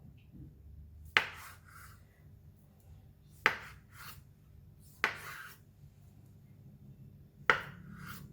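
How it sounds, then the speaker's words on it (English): A knife cuts fried hard tofu into small pieces on a board, giving four sharp, well-spaced chops with quiet pauses between them. A soft background hum runs under the cuts. "We're going to fry it, so I'm going to cut it into smaller pieces. We're going to cut it really small."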